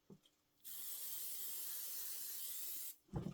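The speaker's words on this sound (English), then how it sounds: "I'm going to go ahead and give those a little shot of spray" A single sustained blast from a spray can onto machine-embroidered freestanding bridge pieces, a loud even hiss lasting a little over two seconds, with faint handling noises before and after.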